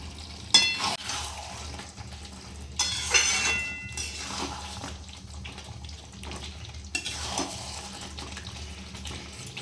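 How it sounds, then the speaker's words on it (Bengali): Chilli chicken sauce simmers in a pan over a low gas flame, a soft continuous bubbling and faint sizzle punctuated by a few louder sputtering bursts, close and without talk. "গ্যাসটা ফ্লেমটা লো করে দিয়েছি লো করে দিয়েছি একটু ফুটবে ফুটবে"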